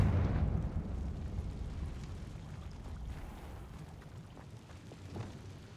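Confringo blasting spell explosion in Hogwarts Legacy, a loud rumbling blast that decays into a long, noisy roar and crackle, fading over several seconds.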